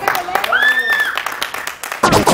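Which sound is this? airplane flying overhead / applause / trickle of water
applause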